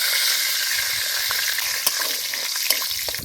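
Oil with dried red chillies, bay leaf and panch phoron sizzling in a wok, a loud steady hiss with small crackles and a few sharp pops near the end, no voices.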